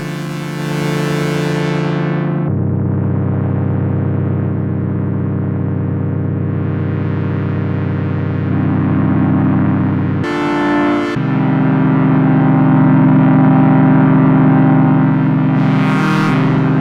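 Genki Katla synthesizer holding dense, buzzy sustained chords rich in harmonics, with a steady droning low end, a brief bright noisy burst near the middle, and a rising airy sweep at the end, loud and with no talking.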